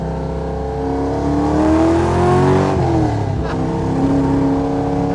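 A 1980 Chevy Camaro Z28 restomod with gear drive revs at half throttle from inside the car, its engine note climbing steadily, dipping briefly, then rising again as a loud, continuous roar.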